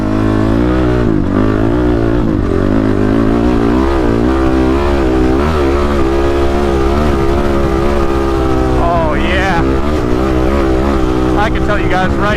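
An ATV engine revs and drones steadily while riding, loud and close, its pitch rising and falling with throttle; a voice speaks briefly over the engine noise.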